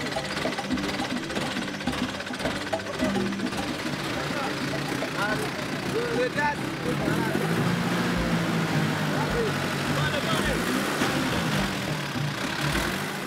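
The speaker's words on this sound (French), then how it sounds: "Koné aura beau donner des coups d'accélérateur pour se sortir du piège, il reste bloqué" A Gbaka minibus with worn tyres stuck on a slippery, rain-soaked dirt track revs its engine repeatedly, a mid-pitched motor rising and straining beneath continuous voiceover narration.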